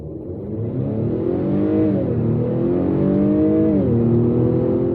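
A 2022 Acura TLX turbocharged engine revs hard and spins up, its pitch rising and shifting through gears, loud and close with no talking.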